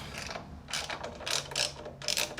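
Ratchet wrench tightening a motorcycle intake bolt on a 2025 Yamaha MT-07, several quick clicking ratchet strokes in uneven bursts, close and fairly clear, no voices.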